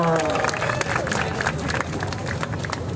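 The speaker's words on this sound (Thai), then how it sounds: "ขอเสียงปรบมือให้คุณจิรนุชด้วยค่ะ" An outdoor crowd at a political protest rally by parliament breaks into sustained applause and cheering, a dense wash of clapping with a voice over it at first.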